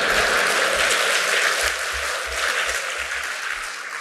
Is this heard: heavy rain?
no